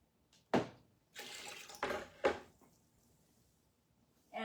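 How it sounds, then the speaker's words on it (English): A small earring being rinsed under a running tap: short, faint splashing bursts of water that come and go with quiet gaps between them. "rinse that earring"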